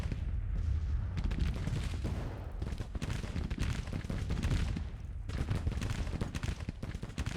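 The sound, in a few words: gunfire from a Civil War strategy video game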